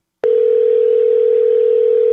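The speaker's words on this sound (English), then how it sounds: "Is something wrong with our phone? Because, Ian, I think you called me on the other line" A telephone dial tone on a phone line cuts in abruptly after a short silence, then holds as a loud, steady, unbroken hum alone.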